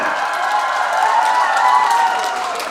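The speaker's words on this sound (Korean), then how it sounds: "큰 박수로 맞아주시죠" A dense, steady wash of applause from a large audience welcoming performers on stage at a New Year's gathering in a convention hall, sustained and fairly loud throughout with no break.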